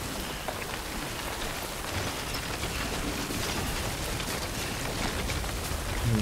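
Rain falls steadily in the video game Death Stranding, an even, dense hiss of drops on surfaces that holds constant throughout.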